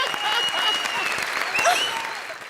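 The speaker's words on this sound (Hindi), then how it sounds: "ठोकर ताली बंदी के लिए।" Steady audience applause on a comedy show, dense and continuous throughout, with a few faint whistles or shouts mixed in.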